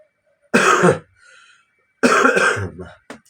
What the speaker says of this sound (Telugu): కొద్దిగా జలుబు దగ్గు